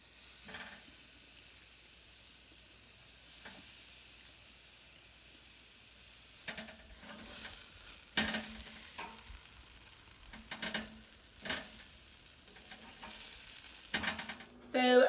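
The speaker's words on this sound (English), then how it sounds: "I'm just going to go outside and put my burgers on the grill." Burgers sizzle steadily on an outdoor grill, a continuous frying hiss with occasional louder crackles and spatters building toward the end.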